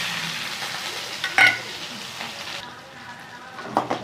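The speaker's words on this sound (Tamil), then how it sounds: "சோம்பு கொஞ்சம் போட்டுக்கணும் பட்டை கிராம்பு கொஞ்சம் போட்டுக்கணும் வெங்காயம் போட்டுக்கலாம்" Fennel seeds, cinnamon, cloves and onion sizzle loudly in hot oil for chicken gravy, with a steady frying hiss, a couple of sharper pops and brief stirring noises, close up.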